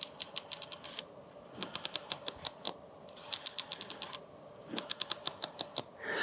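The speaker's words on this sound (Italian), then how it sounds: "questo suono è il suono della ghiera del diaframma che si apre e si chiude." The aperture ring of a TTArtisan 7.5mm f/2 fisheye lens, a manual APS-C lens, turns close to the microphone, giving quick runs of crisp, evenly spaced clicks in several bursts separated by short pauses.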